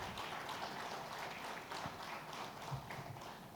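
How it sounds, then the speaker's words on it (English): Audience applause at the TiECon Surat 2023 conference, a faint, distant patter of many hands clapping steadily for a few seconds. "So big round of applause for all the TiE global leaders."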